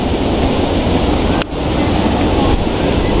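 Strong wind gusts buffet the microphone on an open hilltop at Hetban, Nepal, making a loud, continuous roar with one brief lull partway through.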